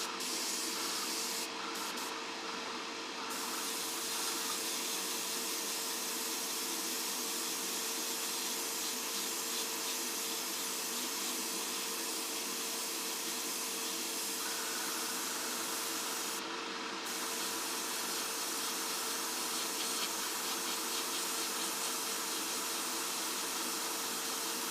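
Close, continuous airbrush spraying hiss on a 1:12 scale Tamiya Yamaha RZ250 model runs nearly unbroken for a long stretch, with a faint shift in tone partway through.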